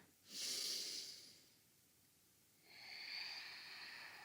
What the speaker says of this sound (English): Just one more inhale.